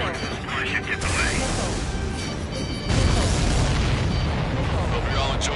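Explosions in the combat flight game Ace Combat 7 boom continuously, a dense rumbling barrage that grows louder and heavier about halfway through, with game sounds layered over it.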